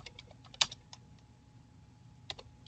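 Sparse typing on a computer keyboard, a few soft key taps with one sharper click near the start and another later, close up in an otherwise quiet room.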